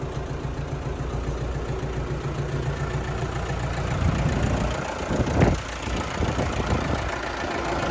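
A new KATA KE454 tractor runs outdoors, its engine idling in a steady, close, mid-low rumble that swells slightly for a moment before settling back, with no voices.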